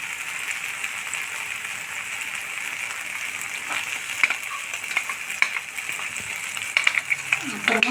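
Masala sautéing in a pan for Mughal kurma, a steady broadband sizzle and fry hiss with occasional stirring scrapes and clinks building toward the end, close and continuous with no talk.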